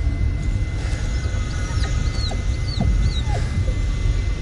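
Dog in the Blair Witch video game whimpering softly: a series of short, high, thin whines spaced about half a second apart, close by, over a low rumbling ambient background.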